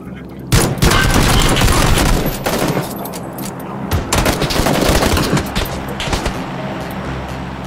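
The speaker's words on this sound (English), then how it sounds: "They're shooting at me." Gunfire in the PUBG battle royale game, dense bursts of automatic shots that crackle loudly through most of the stretch, with a player talking over the shooting.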